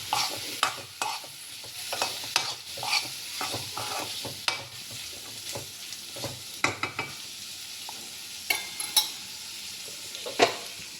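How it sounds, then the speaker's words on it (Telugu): Soaked chana dal fries in oil in a pan, a soft continuous sizzle broken by frequent spoon stirs and scraping clinks against the vessel, fairly quiet and close, with no talking. "ఒక గంట ముందు నానబెట్టుకున్న పచ్చిశనగపప్పు అండి, నూనె వేసి కొంచెం మగ్గించుకుందాం"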